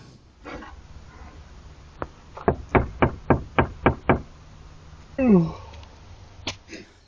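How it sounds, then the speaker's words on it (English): A man raps on the side of a camper van, a fast run of about seven hard knocks close by, with a few scattered taps and a sniff-like breath before and after. "he obviously gets impatient and decides he wants to knock again"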